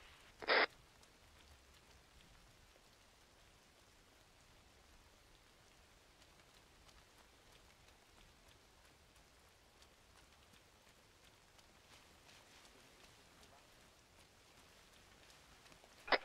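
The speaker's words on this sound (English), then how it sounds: "I don't think this is sideways rain or the rain that sometimes comes up from below." Steady rain hissing in the jungle setting of ArmA 3 SOG, a Vietnam-era military game, holding as a faint, even wash with two brief sharper bursts at the start and end.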